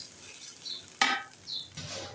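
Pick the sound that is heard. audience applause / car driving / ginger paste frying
ginger paste frying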